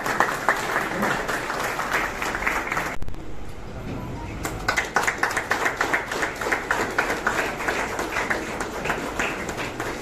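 Applause from an audience at a World Environment Day 2023 event held by an Environmental Club of India, with loud rhythmic clapping that breaks off briefly and then resumes.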